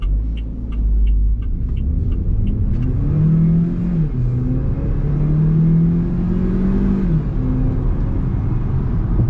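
A 2021 Haval Jolion with a 1.5 litre turbo engine accelerating hard, engine note rising steadily through a gear change and climbing again, a loud continuous in-cabin rumble with no talk.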